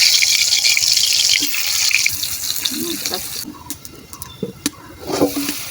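Pumpkin slices coated in salt and turmeric frying in oil, a bright steady sizzle that softens after a couple of seconds, with a person talking and small clinks alongside.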